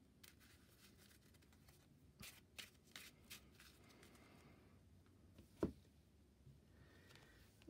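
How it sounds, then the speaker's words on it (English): Playing cards are shuffled into a deck during a Marvel Champions card game, heard as soft riffles and a few crisp taps over quiet room tone. "And I'll shuffle those 3 into my deck."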